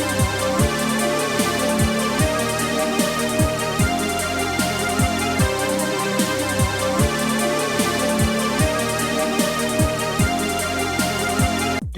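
A melodic dubstep lead built on Roland Aira compact synths plays as a dense, continuous full track, with steady kick thumps, bright sustained synth layers and a constant loud level throughout, and no talk.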